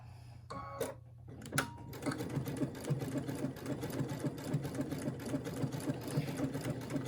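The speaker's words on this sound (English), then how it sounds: "Let's try another stitch at a different speed. So we'll try stitch number Q26." A Brother sewing machine fitted with a 7 mm walking foot stitches through a wool and muslin quilt sandwich, a fast steady mechanical whir with rapid needle clatter that starts after a few clicks and runs on evenly, close and alone.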